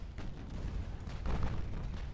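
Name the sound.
transports' 3-inch naval guns firing, from video game Ultimate Admiral: Dreadnoughts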